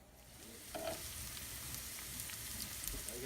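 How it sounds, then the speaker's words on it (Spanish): Onions frying in hot oil in a pan on a stove, a steady broadband sizzle with brief stirring scrapes, close and continuous with no talking. "Luego, añade las cebollas en la sartén."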